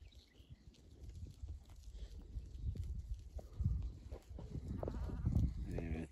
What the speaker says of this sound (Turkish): Evet, böyle koyunlar, kuzular